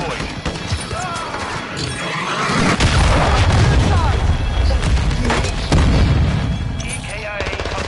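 A video game cruise missile strike: a deep booming explosion swells around the middle and rolls on, mixed with gunfire, crashes and game voice chatter throughout.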